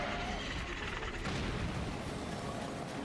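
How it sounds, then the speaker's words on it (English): The Queen Gibdo boss in The Legend of Zelda: Tears of the Kingdom erupts in a giant explosion, a dense, sustained roar of blast noise that fills the whole moment loudly without a break. "It's like, it's just a giant explosion."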